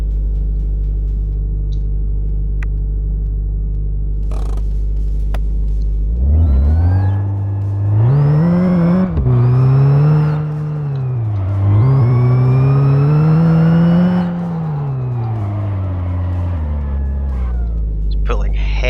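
A car in the driving game My Garage, its engine idling low, then revving hard and rising and falling through several loud, close surges before settling back to a steady hum.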